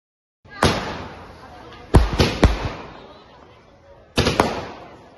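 Firecrackers bursting at a Dussehra celebration in Bhopal, several sharp loud bangs: one single blast, then a quick cluster of three, then another pair after a pause, each trailing off in echoing crackle.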